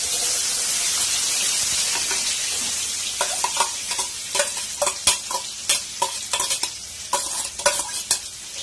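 Onions frying in a pan for bombil fish curry, a continuous crackling sizzle that gives way to rhythmic, close spatula stirs and scrapes, with no voices.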